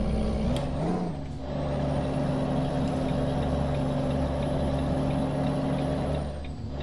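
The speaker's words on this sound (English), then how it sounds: "Struggling up the hill with the two trucks on." A Volvo F10 truck's engine strains in Euro Truck Simulator 2 as it climbs a hill hauling two trucks, producing a steady, loud, low drone that holds throughout, with a brief air hiss near the start.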